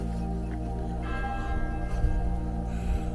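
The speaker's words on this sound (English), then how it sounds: "church bells are going to ring to 10" Church bells of St James Church, Egerton, Kent, ring steadily with a rich, sustained resonant tone, heard alone and moderately distant.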